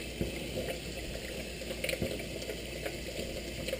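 Water runs steadily from a kitchen tap, a continuous hiss with a few faint clinks from a nearby pan, heard alone and fairly quiet.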